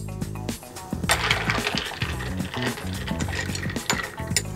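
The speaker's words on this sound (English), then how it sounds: "Give it a quick stir." Ice clinks and rattles against a glass as a bourbon and blood orange cocktail gets a quick stir, a busy run of close, bright taps and jangles with no talk.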